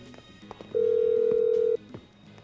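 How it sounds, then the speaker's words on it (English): A mobile phone in the GTA V video game dials out with a steady electronic tone lasting about a second, set among soft clicks and low game background sound. "Oh, yeah, I gotta phone Lester"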